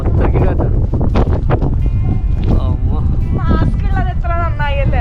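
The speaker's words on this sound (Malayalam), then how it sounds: "അയ്യോ, ഭയങ്കര കാറ്റ്" Strong wind buffets the microphone during a snowstorm in Moscow, a loud continuous roar with people talking over it throughout.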